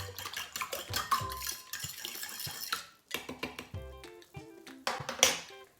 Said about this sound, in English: So a little bit of flour, whisk, a little bit of flour, whisk, a little bit more milk, whisk